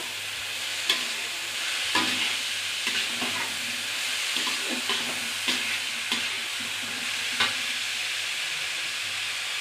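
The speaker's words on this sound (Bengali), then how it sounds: "এবার ভালো করে আমি ভেজে নেবো" Food frying in a pan with turmeric and salt, a continuous close hiss punctuated by regular scraping stir strokes every second or so, no talking.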